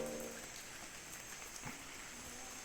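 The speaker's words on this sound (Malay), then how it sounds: "hujan." Rain falling at Niah National Park in Sarawak, a soft, even hiss of drops with faint scattered patters, steady and fairly quiet throughout.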